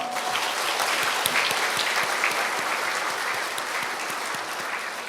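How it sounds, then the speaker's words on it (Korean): A crowd of around 300 citizens at a Siheung roundtable meeting applauds together in a dense, continuous roar of clapping that fades slightly at the end. "오늘 오신 모든 분 서로를 위해 그리고 시흥을 위해 여러분 큰 박수를 함께 쳐봅시다"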